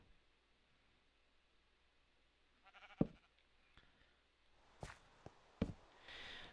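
A sheep in the Minecraft video game lets out a few short bleats, faint and spaced apart over quiet ambience with light footstep-like sounds.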